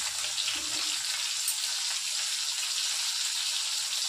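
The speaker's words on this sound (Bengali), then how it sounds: "এবার আমি এই তেলে দিয়ে দেবো একটা ছোট পেঁয়াজ, কেটে রাখা পেঁয়াজ" Chopped onion sizzling in hot oil in a pan where prawn with potato and cauliflower is being cooked, a steady loud frying hiss with no talk.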